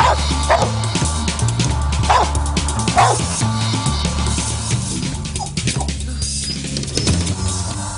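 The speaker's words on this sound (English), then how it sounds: "Stupid dog." A dog barks and yips in a few short bursts over a busy, noisy background, fairly close and moderately loud, in a scene from a TV drama.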